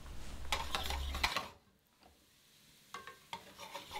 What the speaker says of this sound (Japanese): 溶けたところに先ほど用意したエシャロットとニンニクのしずれを入れて色をつけずにゆっくりとシュエ